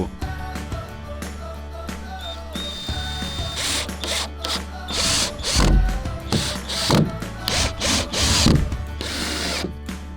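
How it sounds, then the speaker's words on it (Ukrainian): A power drill drives screws into painted boards while a floating-house platform is built, with repeated loud whirring bursts and ratcheting bites over steady low background noise. "Спочатку вкручуємо шурупи по периметру."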